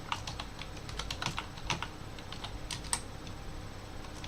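Rapid, uneven keystrokes on a computer keyboard while logging into a Raspberry Pi over PuTTY, close and fairly quiet, with a few sharper key taps and no talking.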